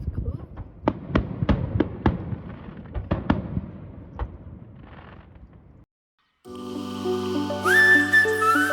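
New Year's Eve fireworks heard from a rooftop tent in south-west Western Australia, a string of sharp distant bangs and crackles at irregular intervals, then a break before music takes over.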